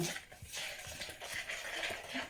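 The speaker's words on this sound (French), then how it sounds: "Donc, je mélange." A spoon stirs 150 ml of water into a mixture in a bowl, giving quiet, close scraping and clinking strokes in an irregular rhythm.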